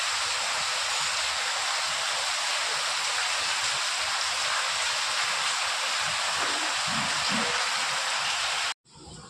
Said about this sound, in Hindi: तो भाई इतने बारिश हो रही है